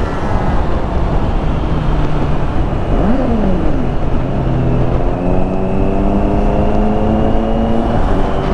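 Honda CB650R E-Clutch motorcycle engine through its stock muffler on a night ride, a steady loud drone with rising and falling pitch sweeps as the rider shifts and revs amid road and wind noise.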